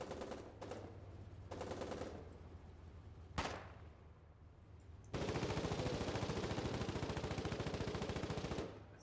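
Machine gun fire in the Foxhole video game: rapid bursts of rattling shots come in short volleys, followed by a loud single crack and then a long sustained stream of automatic fire, all fairly distant and without talk.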